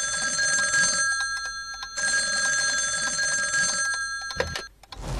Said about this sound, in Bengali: এত সকালে আবার কে ফোন করছে?